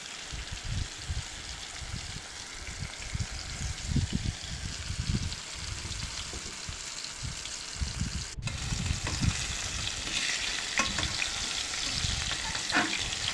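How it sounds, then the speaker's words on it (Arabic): Bisaria fish sizzle and crackle steadily in very hot oil, a loud continuous frying hiss with bursts of popping and bubbling throughout, with no voices. "عندي زيت سخن جدا، نزلت بالبسارية هي فيه"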